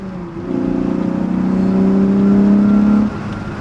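A Volkswagen Golf VR6 engine hums and swells while driving, its six-cylinder note rising steadily as the car accelerates for a few seconds under the steady road rumble, then dropping back when the throttle eases.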